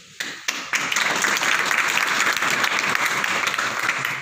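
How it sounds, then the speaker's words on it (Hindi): A large crowd at a speech in Jodhpur breaks into loud, dense applause after a few scattered claps, holding steady and full throughout. "जहां ताली की जरूरत हो ताली बजाए"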